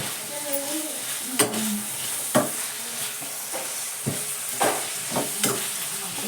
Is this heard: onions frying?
yes